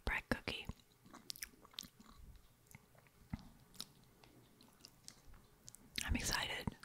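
Crisp bites and wet chewing of a printed royal icing shortbread cookie, close and intimate, with scattered crunches and a louder burst near the end, under soft whispered speech.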